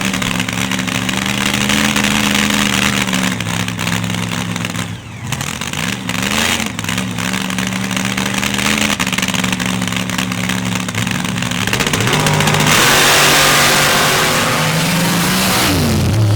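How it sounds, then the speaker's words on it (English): A loud dirt drag racing car with an 814 cubic inch Hemi engine and no nitrous roars steadily at close range, its sustained rough engine tone shifting pitch midway and swelling louder near the end. "He goes side by side with Wayne Bonacker out of Missouri in the 814 cubic inch Hemi powered, self-inflicted, no nitrous on that machine."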